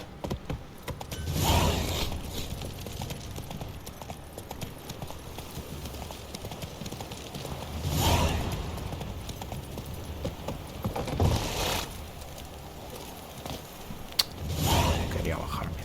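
Horse hooves clip-clop in The Witcher 3, sounding in loud bursts of steps at regular intervals over a low ambient bed, with a voice also present.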